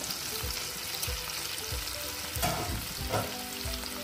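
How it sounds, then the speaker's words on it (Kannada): Onion and capsicum sizzle steadily in a hot pan with salt, with repeated low scraping strokes as the vegetables are stirred, close and continuous with no talk. "ಉಪ್ಪು ಹಾಕಿ ಸ್ವಲ್ಪ ಈರುಳ್ಳಿ ಆಡಿಸ್ತಾ ಇದ್ದೀನಿ. ಕ್ಯಾಪ್ಸಿಕಮ್ ಹಾಕ್ತಾ ಇದ್ದೀನಿ."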